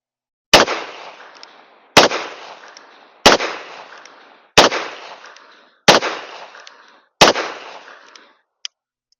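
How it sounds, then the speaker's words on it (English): Six sharp, loud gunshots from a Ruger New Vaquero .45 ACP revolver, fired one-handed at steady intervals of about a second and a half, each with a short ringing decay, then a faint click at the end. "Still a fun gun to shoot."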